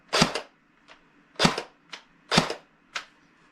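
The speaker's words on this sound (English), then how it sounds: "So one trigger pull, semi-auto." A CYMA P90 airsoft gun fires on semi-auto with sharp, snappy shots in a steady rhythm, each trigger pull followed by a fainter mechanical click, close and dry with no talk.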